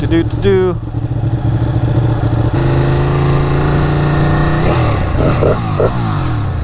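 A Ducati Panigale motorcycle engine idles with a loud, steady rumble, then revs up and settles as the bike gets moving, with a voice speaking over it.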